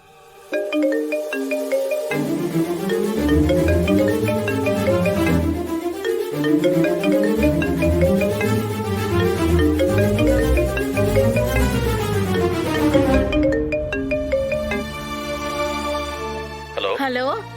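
A phone ringtone plays during an outgoing call, a bright, looping electronic melody that repeats steadily and fairly loud for the whole stretch, with no voices over it.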